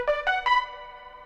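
Three warm, bright synth pluck notes in quick succession from a beat made in FL Studio, each decaying smoothly and ringing out briefly afterward.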